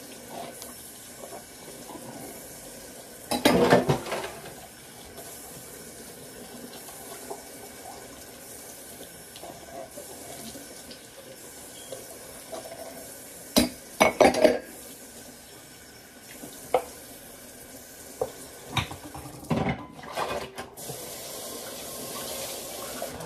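Dishes clatter and clink in a sink over a faint background of running water, with a few louder bursts of scraping and knocking.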